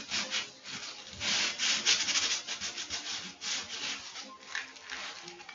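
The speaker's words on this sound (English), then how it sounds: "why don't we try sanding this pole, see what happens." Steady scratchy sanding on a painted wooden pole, continuous rough rubbing strokes with a slight back-and-forth rhythm, fairly close and moderately loud.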